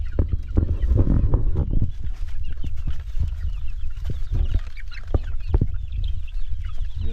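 Chickens and chicks cluck continuously around a farmyard, many overlapping calls of varied loudness over a steady outdoor background.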